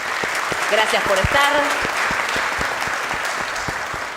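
A conference audience breaks into steady applause for guests and officials, a dense clapping wash lasting the whole stretch while someone speaks briefly over it.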